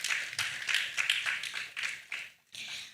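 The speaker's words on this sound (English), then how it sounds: "Please, a round of applause" Modest, uneven clapping from the audience at a youth entrepreneurship policy dialogue, sounding soft and somewhat distant. It thins to almost nothing near the end, then picks up again briefly.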